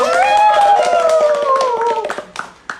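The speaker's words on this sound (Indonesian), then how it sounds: "Terima kasih untuk Ustadz Egy Effendi, tepuk tangannya dong." Clapping from an audience at an Islamic religious mentoring session, scattered claps running under a loud, drawn-out voice that fades out, leaving a few final isolated claps.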